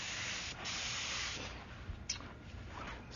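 An airbrush spraying paint in a steady, close hiss that holds for over a second and a half, then breaks into short bursts and sputters.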